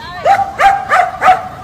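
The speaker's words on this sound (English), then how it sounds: "This dog literally will go after cars, bark at them, tell them to stop so these kids can cross." A stray dog barks at passing cars to stop traffic for kindergarten children crossing a road: four sharp, loud barks close by, evenly spaced about a third of a second apart.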